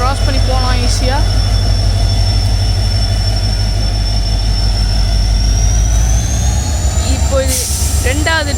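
A train rumbles past close by, a loud continuous roar with rhythmic rail clatter and a high steady whine over it.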